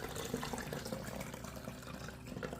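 Buttermilk pours in a steady liquid stream from a mixing bowl after churning butter at home, a soft continuous splashing and trickling close by with no talk.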